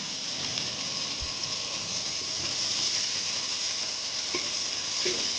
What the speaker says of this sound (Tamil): நல்லா கலர் மாற வரைக்கும் நல்லா வதங்கட்டும் இந்த வெங்காயமும் அந்த ஜீரகமும்